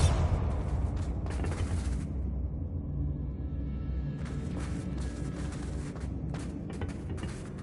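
Bombarda explosion spell in Hogwarts Legacy, heavy booming blasts with crackling debris and rumbling, a sharp burst at the start and another cluster of bangs later, fairly distant and moderately loud throughout.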